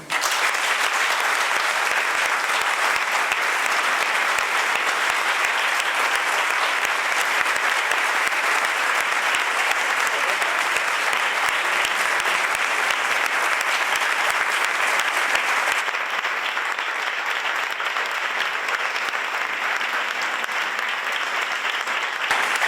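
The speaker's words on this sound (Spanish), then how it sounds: "No me aplaudéis más, que no sé dónde meterme, no estoy acostumbrada." Sustained, loud applause from a lecture audience at the close of an inaugural conference talk, steady clapping filling the hall for over twenty seconds without pause.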